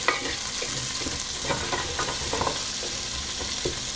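Diced onion stirred around in hot oil in a pot, a steady sizzle and frying crackle with intermittent scraping and stirring taps, close up and without talk.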